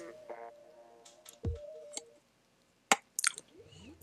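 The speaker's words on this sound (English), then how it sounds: "As I chew on this mint," Mint candy crunched and chewed close to the mic, a few wet squishy bites and clicks with short quiet gaps, over soft background game sounds from Splatoon 2.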